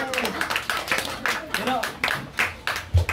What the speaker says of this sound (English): Clap your hands for that.